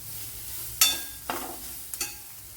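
Sliced onion sautés in a pan, giving a faint low sizzle broken by three or four brief scraping stirs of a spoon.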